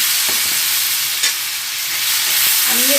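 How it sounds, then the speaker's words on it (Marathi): Tomatoes with chili and salt sizzle steadily in a hot pan, with a constant frying hiss and a few soft stirring scrapes of a utensil. "आता 2-4 मिनिटं आता टमाटे भाजून घेतली"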